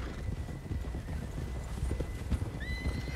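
Horse hooves clip-clopping across rough terrain in Red Dead Redemption 2, a steady walking rhythm close by, with occasional game ambience and a faint tonal effect near the end.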